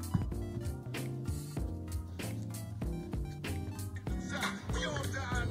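Music streamed from Spotify on an iPhone, captured in a screen recording's playback, with full-band beats and sustained chords running steadily and fairly loud throughout, no voices.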